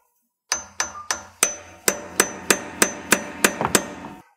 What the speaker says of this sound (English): we're going to take a chisel and a hammer, put it in between the axle housing and the carrier